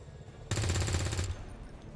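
Automatic gunfire in the XCOM 2 video game: a sharp, loud burst of rapid shots lasting under a second, then fading into a low ambient hum.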